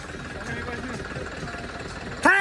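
A tractor engine idles nearby with a steady low throbbing rumble and voices talking over it, ending in a sudden louder burst of sound.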